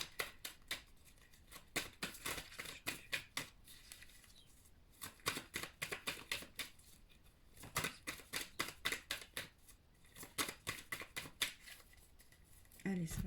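Oracle cards being shuffled by hand in repeated bursts of rapid riffling and flicking, fairly close, with soft murmured talk in places.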